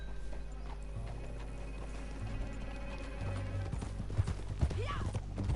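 Horse hooves clip-clop in a steady galloping rhythm in Red Dead Redemption 2, heard among game noise and louder thuds near the end, with a voice talking over part of it.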